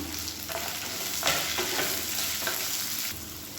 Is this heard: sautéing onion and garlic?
yes